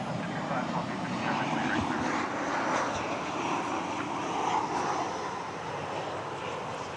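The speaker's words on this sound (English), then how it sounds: "as we watch Flight 2264 coming in from Santa Ana, California, 737-800" A Boeing 737-800 airliner comes in to land at DFW Airport, its engines a steady, fairly loud roar that holds evenly for the whole stretch, with people talking underneath.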